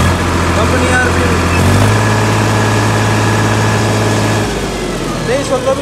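A Solis 5015 tractor engine runs at a steady idle with a low, even drone, then rises briefly in pitch partway through before settling back to a lower hum, close and loud throughout.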